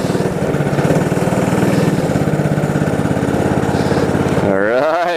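A 20-year-old Polaris Pro-X 120 mini snowmobile on full choke runs at a loud, close, fast-chugging idle. Near the end its pitch sweeps up and down as the throttle is blipped.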